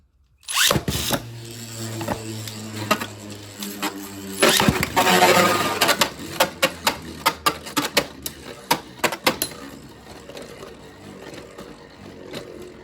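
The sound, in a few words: Beyblade launch and spinning battle, Prominent Phoenix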